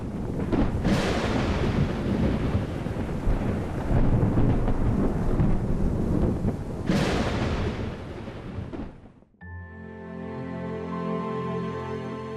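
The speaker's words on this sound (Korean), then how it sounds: "가끔 천둥과 번개가 요란하게 수를 놓습니다" Deep thunder rolls across a dry, cloudless sky over the remote Changtang plateau, two long loud rumbles building and fading, followed by a softer tonal hum.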